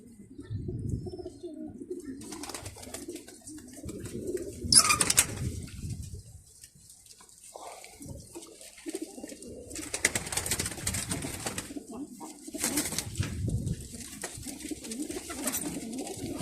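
Pigeons coo repeatedly in a rooftop loft setting, soft throaty calls with occasional chirps and a brief flutter of wings, fairly close, with background noise between bursts.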